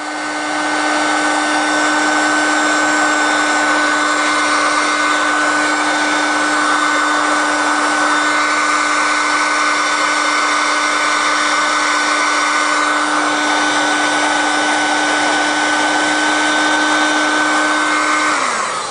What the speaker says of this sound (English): This is a heat gun. This is one of our most powerful units, has two settings.